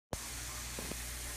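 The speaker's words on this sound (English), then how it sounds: "My chicken's frying up." Chicken frying in a frying pan, starting abruptly with a loud steady sizzle and hiss that continues without break, with a couple of faint clicks partway through.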